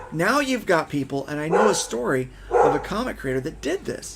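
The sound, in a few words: dog barking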